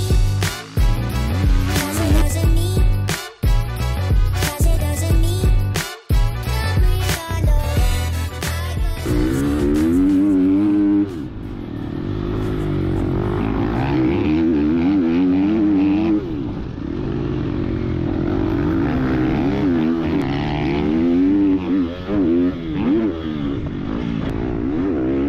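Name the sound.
motocross motorcycle riding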